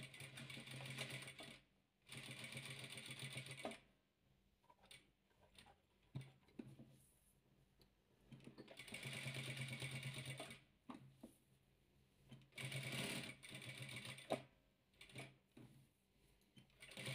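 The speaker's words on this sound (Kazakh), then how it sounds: "Енді осыған мына құрақтың көзін айналдырып тігіп шығамыз." A sewing machine stitches royal velour patchwork in bursts of steady mechanical whirring and ticking, separated by quiet pauses and faint handling clicks.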